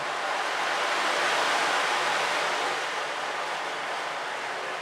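An ocean drum tilted to roll its beads across the head, imitating waves, a soft continuous rushing hiss that swells and then slowly ebbs away.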